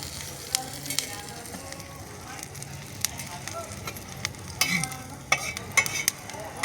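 Coriander seeds dry-roasting in a pan over a wood-fired stove, with soft scraping stirs and occasional light crackles and clinks over a steady low background, no talking.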